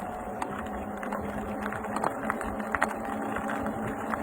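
The hub motor of a Paselec PX5 electric folding fat-tire bike at full throttle gives a steady whirring drone, with road and wind rumble beneath and occasional light clicks and rattles.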